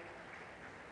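An audience applauds at a lecture, a brief steady wash of many hands clapping, filling the moment evenly with no voices over it.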